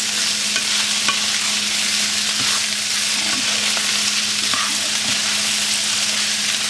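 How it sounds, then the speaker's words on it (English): Ketchup being stirred into chili chicken frying in a pan for an Indo-Chinese dish, a steady loud sizzle with scraping stirs throughout and no talking. "so I've got the ketchup, and I'm gonna mix it"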